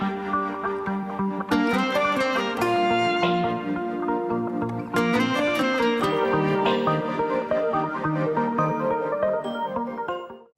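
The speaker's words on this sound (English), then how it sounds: "That was the sound of Mastercard." Mastercard's sonic branding melody plays as a full, bright orchestral-style arrangement with chimes and layered harmony, steady and loud throughout before ending abruptly.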